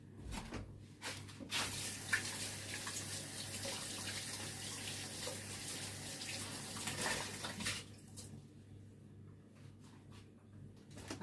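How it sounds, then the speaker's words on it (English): A kitchen tap runs steadily into the sink while hands are washed, a close, continuous splashing hiss that lasts several seconds before shutting off, followed by a few soft knocks. "Let me go wash my hands."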